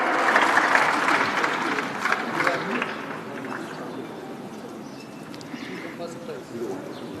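Applause from the audience at a startup festival prize ceremony, clapping strongest at the start and fading into a quieter hall murmur with scattered claps.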